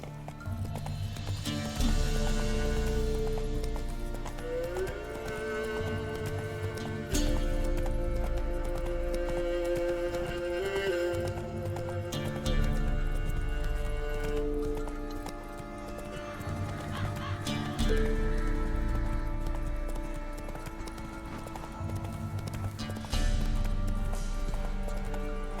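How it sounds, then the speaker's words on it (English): Horse hooves galloping in The Witcher 3, a steady rhythmic clip-clop running throughout with occasional whinnies and snorts over a game background score. "Whoa there, Roach"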